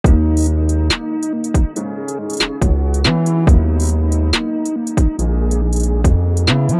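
A full UK drill beat plays loud and close, with booming sliding bass, crisp hi-hats, sharp snares and a melody layered on top, and no voice.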